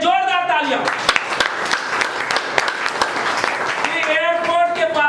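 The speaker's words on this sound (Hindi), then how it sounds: "नेताजी के लिए जोरदार तालियां" An audience at a leaders' team-work meeting claps loudly for a guest leader, a dense burst of steady applause with a voice speaking over it at the start and end.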